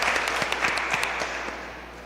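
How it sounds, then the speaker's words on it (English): Applause from attendees at a community conversation meeting in Tobago, a brief burst of scattered clapping with distinct individual claps that gradually thins and fades toward the end. "I think you should give yourselves a round of applause"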